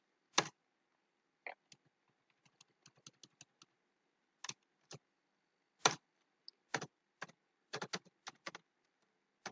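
Keys on a computer keyboard clatter in irregular bursts as C code is typed, close and fairly quiet, with pauses between clusters of keystrokes and no talking.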